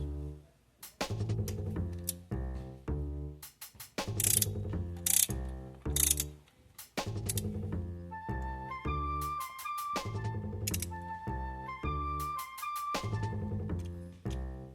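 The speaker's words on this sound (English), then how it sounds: "Now I'm gonna go ahead and torque it down to spec." A torque wrench ratchet clicks in rapid bursts while tightening rocker assembly bolts on a Chrysler 300 engine, close and loud, in repeated runs separated by brief pauses, without speech.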